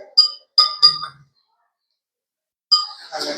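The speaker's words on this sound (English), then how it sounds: "Still some crystals are there. Stir it well." A spoon stirs sugar crystals into water in a glass, giving a few bright clinks against the glass, then a pause before more clinking and soft scraping.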